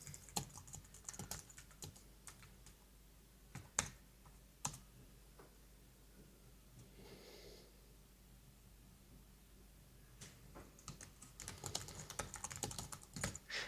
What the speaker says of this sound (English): we can type our text here.